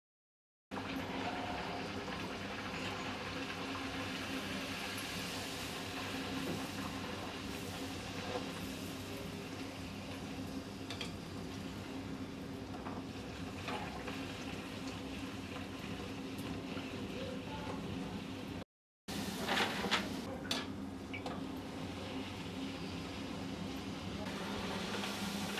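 Puris sizzle and crackle in hot oil while being deep-fried for an Akshaya Tritiya aamras thali, a dense, steady frying hiss that runs without a break, stops briefly, then resumes.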